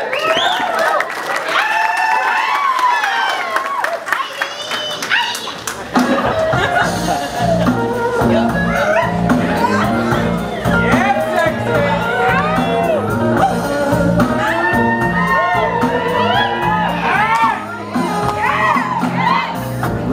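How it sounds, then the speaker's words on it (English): An audience at a blues dance showcase cheers and applauds for the dance instructors, loud clapping and whoops that soon blend with music starting up, voices shouting throughout. "Please give them your cheers and your applause."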